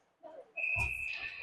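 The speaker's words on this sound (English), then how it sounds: "Another whistle." A referee's whistle at a peewee youth ice hockey game sounds one long, loud, shrill blast that holds steady over the rink's crowd and arena noise.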